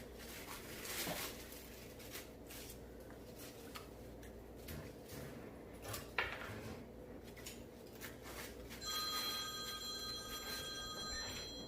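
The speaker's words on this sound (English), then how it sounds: "There's the phone." A telephone rings indoors during a floral design lesson, its bell tones repeating in short bursts against a quiet room with occasional handling noises.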